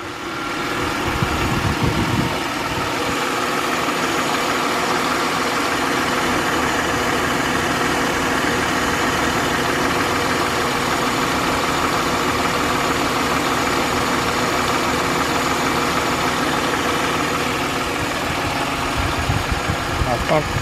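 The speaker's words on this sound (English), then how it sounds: "Let's go listen to the motor here." A 2006 Mercedes E-Class with front-end damage idles close by, its engine giving a steady, even drone that holds unchanged for about twenty seconds.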